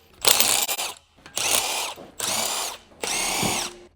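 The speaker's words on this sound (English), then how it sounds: "Use a 17mm large deep socket with an electric impact wrench." An electric impact wrench with a 17mm deep socket removes lug nuts on a 2007 eighth-generation Honda Civic, firing four loud, close rattling bursts of roughly half a second to a second each, separated by short pauses.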